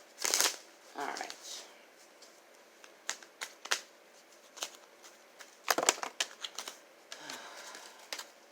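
Tarot cards being shuffled up close in short crisp bursts, with pauses and scattered flicks and taps between them.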